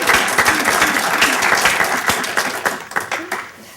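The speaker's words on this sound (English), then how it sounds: "let's take care of the clapping." Audience in a meeting room applauds with dense, close clapping that starts full and thins out toward the end, with some voices mixed in.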